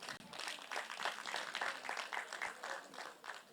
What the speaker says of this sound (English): Please, one more time, a resounding applause.